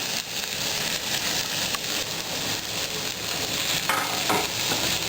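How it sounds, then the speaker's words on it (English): Grilled tofu and vegetables stirred steadily in a hot pan, a dense continuous sizzle with scraping stir strokes throughout, close and fairly loud, no talking. "My lovely assistant will be stirring constantly as I do this."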